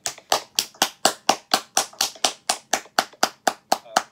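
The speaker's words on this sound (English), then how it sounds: "Let's give Denis a big round of applause." An audience claps after a presentation, a run of even, crisp claps at a steady rhythm, close and fairly loud, with no talk.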